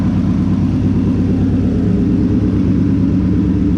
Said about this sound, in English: I've had the car running for about half an hour or so.